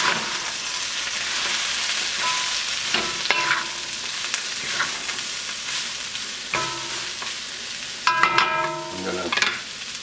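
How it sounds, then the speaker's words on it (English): Cabbage being stir-fried for moo shu tofu sizzles steadily in a hot pan, with clanking utensil scrapes and taps throughout and no talk. "We'll keep stir frying this."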